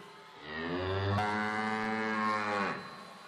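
A loud, long single ox moo at a Boi Caprichoso show, a deep drawn-out bellow swelling and fading over a few seconds, heard alone without talk.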